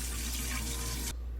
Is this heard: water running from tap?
yes